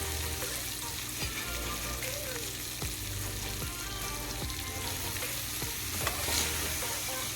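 Lime pickle with mustard seeds and curry leaves fries in a pan over medium heat, giving a steady close sizzle broken by the scrapes and taps of stirring.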